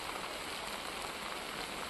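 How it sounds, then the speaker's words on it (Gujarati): Heavy rain pours at night in Karnataka, a dense, even hiss of water drumming on a tarpaulin-covered roadside hotel, steady and unbroken with no voices. "કર્ણાટકમાં વરસાદ અત્યારે ચાલુ છે"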